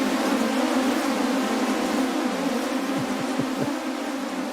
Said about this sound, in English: It sounds like bees swarming.